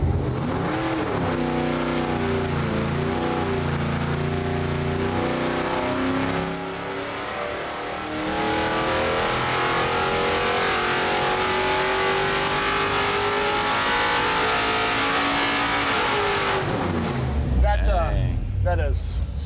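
A 1969 Plymouth Road Runner V8 with a totally different engine setup revs hard on a dyno, a loud, sustained roar that climbs steadily in pitch, drops briefly, then pulls up again before cutting off near the end.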